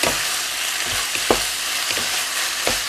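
Holy basil chicken stir-fried dry in a pan without water, a loud continuous sizzle broken by sharp scraping stirs about every half second, with no talk.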